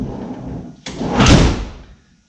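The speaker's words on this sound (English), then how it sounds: "So you really have to slam it, as I was demonstrating there." The sliding door of a VW Westfalia bay-window bus is slammed shut hard: one loud metallic bang with a heavy thud and rattle that swells and fades over about a second, close by with no talk.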